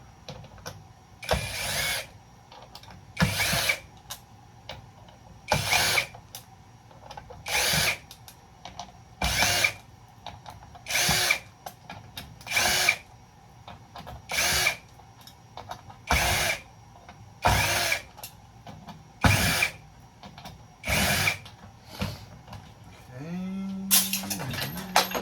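Power drill backing Phillips screws out of a breaker box, eleven short whirring bursts in a regular rhythm with pauses between, close and fairly loud.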